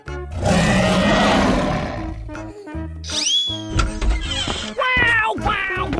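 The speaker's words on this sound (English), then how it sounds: "Dinosaurs." A dinosaur roars in a 3D animal slide game, a long loud growling roar at the start, followed by shorter synthetic squeals, cries and game sound effects.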